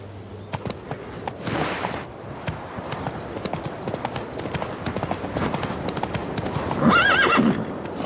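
Horse hooves clip-clop rapidly and steadily in a video game, close and continuous. A whinny sounds near the end.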